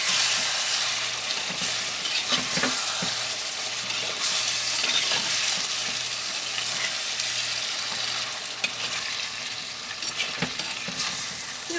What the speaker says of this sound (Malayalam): കറി ഇടയ്ക്ക് നമുക്കൊന്ന് ഇളക്കിയിട്ട് കൊടുക്കണം